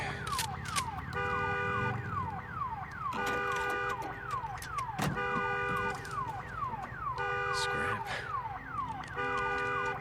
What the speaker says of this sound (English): it sounds like salvaging that car automatically turned the alarm off